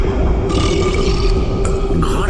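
A giant's deep, rumbling burp in a Bengali horror audio drama, loud and close, one long guttural belch lasting about two seconds with no voice over it.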